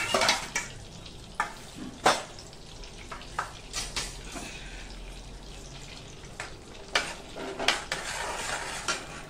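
About two spoonfuls of butter melting in a pan, with a faint sizzle under irregular clinks and scrapes of a spoon against metal, close and quiet.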